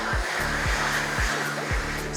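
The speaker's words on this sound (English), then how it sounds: "Air hand dryer. A hand dryer." An electric hand dryer roars steadily in a public bathroom, a loud continuous blowing rush with a low pulsing undertone, close by.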